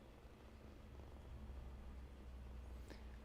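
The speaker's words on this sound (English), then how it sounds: "She's purring." A cat purrs softly and steadily, a faint low continuous rumble close to the microphone with no talking.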